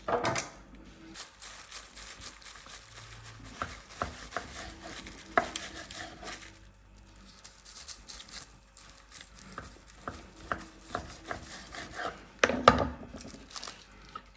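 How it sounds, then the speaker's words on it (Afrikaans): A knife cuts lamb rib lollies into wheels between wooden skewers, giving scattered soft cutting taps and board knocks with quiet pauses between them and no talking. "ons kan hom nou in wielietjies sny tussen hierdie stokkies"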